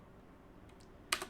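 Keys pressed on a computer keyboard while editing HTML, a Control+Enter shortcut: a couple of faint taps followed by two sharper, louder clicks at the end, over quiet room background with no speech.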